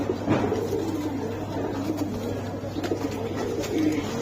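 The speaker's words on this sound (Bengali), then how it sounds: "দেখেন না চাল নীল কবুতর।" Blue-patterned giribaj high-flyer pigeons at a pigeon sale coo in low, throaty, rolling calls that run steadily and close by with no talk over them.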